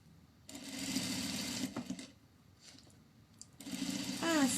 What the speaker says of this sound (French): coudre son tissu